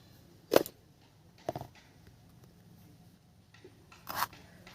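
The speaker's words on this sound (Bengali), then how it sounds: "এবারে আমি কেটে নেব কুমড়ো" A small, ripe, home-grown pumpkin being cut with a knife, giving three separate rasping, crunchy strokes spaced a couple of seconds apart, close and fairly clear with quiet gaps between.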